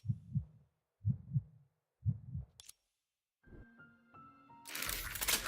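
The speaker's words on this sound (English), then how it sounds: "Oh no, not the heartbeat sounds." Three slow, deep double-thump heartbeats, muffled and close, in a Honkai Impact 3rd game scene, followed by a short click, a descending tonal sequence and a rising noisy swell.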